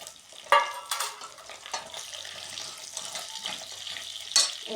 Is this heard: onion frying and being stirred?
yes